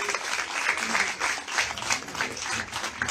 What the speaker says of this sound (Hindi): और तालियों में कोई कमी नहीं होनी चाहिए।